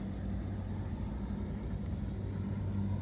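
FlyFans L-39 camo RC model jet flying with landing gear and flaps down, a steady distant turbine roar with low rumble, faint and continuous, heard from the ground.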